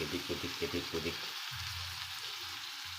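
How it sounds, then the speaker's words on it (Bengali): Mutton (goat meat) frying with spices in a pan, a steady close-up sizzle with broadband hiss, rhythmic stirring scrapes in the first second or so, then continuous frying. "মাংসটা দিয়ে দিয়েছি, কষতে হবে 20 মিনিট ভালো করে, এদিক ওদিক"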